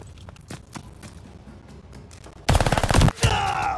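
Call of Duty Vanguard multiplayer gunfire: a loud rapid burst of automatic shots, preceded by quieter in-game movement and ending with a few trailing shots.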